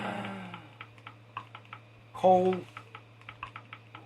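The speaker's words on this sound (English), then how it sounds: "I'm just going to type one more time." Keys clack on a computer keyboard in a quick, steady series of light taps, close and clear, after a brief spoken word.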